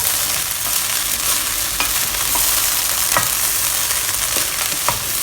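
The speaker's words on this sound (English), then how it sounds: "so that I can stir this without moving the pot. Mix them up well." Ingredients sizzle loudly and steadily in a Dutch oven pot, with occasional spoon knocks and scrapes as they are stirred, close up and without talking.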